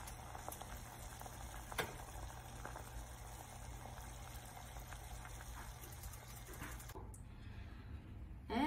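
Water with turmeric, ginger and sprouts boiling in a pot, a faint steady bubbling with occasional soft pops, heard alone until it cuts out near the end.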